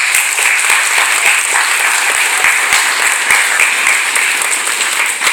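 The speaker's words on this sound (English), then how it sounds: "You give Jolie a round of applause" An audience at a school band concert applauds Jolie, loud, close, sustained clapping with sharp individual claps standing out in a steady rhythm.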